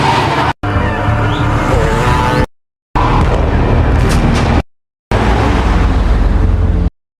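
A police car drives in an action film scene about the Punisher, loud engine roar and skidding with crash-like bursts, broken by sharp cuts to silence between shots.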